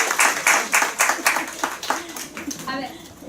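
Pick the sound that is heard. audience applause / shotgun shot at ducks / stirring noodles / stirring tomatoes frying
audience applause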